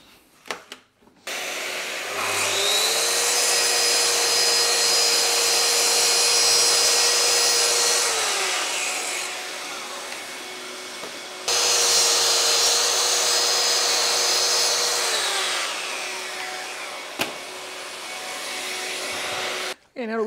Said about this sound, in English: So I've just set my track saw up.